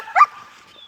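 A dog in obedience training gives a single short, sharp bark on command, close by, followed by quiet.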